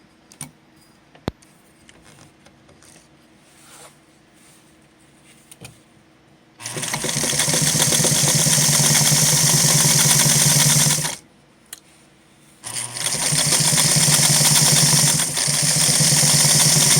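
A vintage Singer Spartan 192K sewing machine stitches through four layers of Sunbrella fabric, its motor whirring in two loud, steady runs separated by a short pause, with quiet handling clicks before it starts.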